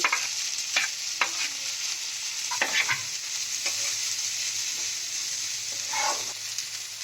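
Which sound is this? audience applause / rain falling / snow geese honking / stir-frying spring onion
stir-frying spring onion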